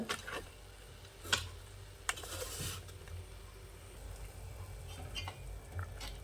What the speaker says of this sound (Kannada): ನೋಡಿ ಇಲ್ಲಿ ನೀರು ಕುದೀತಾ ಇದೆ ಈಗ